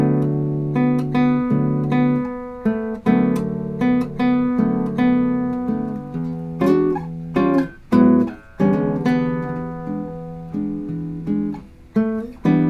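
A solo jazz guitar plays the A section of a samba chord-melody arrangement, slowly, with steady sustained chords under plucked melody notes, continuous and close, with no voice.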